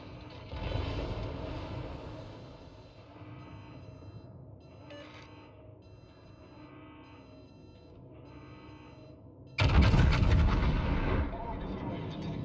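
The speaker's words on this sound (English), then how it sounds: "All stations requesting fire on the designated target." Warship gunfire in World of Warships, with a distant rumbling backdrop and a few muffled booms, then a sudden loud heavy volley near the end that rolls on for a couple of seconds.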